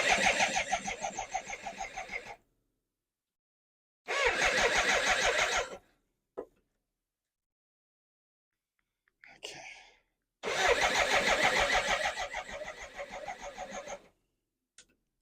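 A BMW K100 motorcycle engine cranks on the starter in three rhythmic chugging bursts that fail to catch, separated by silence and a couple of brief clicks.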